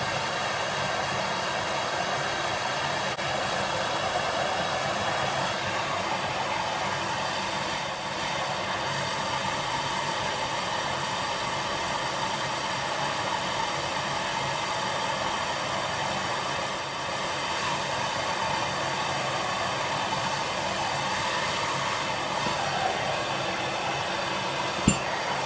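A MAPP gas torch heats a steel box-end wrench, giving off a steady, constant roaring hiss that holds unchanged for a long stretch, ending with a faint click.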